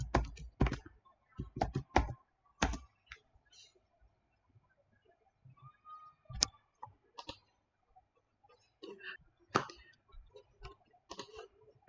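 Keys clicking on a computer keyboard as a password is typed, quiet close taps coming in short irregular clusters with brief pauses between them.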